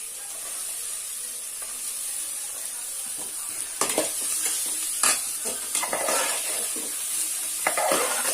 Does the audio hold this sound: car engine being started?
no